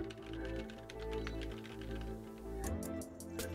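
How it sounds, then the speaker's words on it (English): Typing on a mechanical keyboard with a brass plate and well broken-in switches, a steady run of close, precise keystrokes over a constant low hum, ending in a few sharper, brighter clacks. "it's a very precise and smooth board for me to type on"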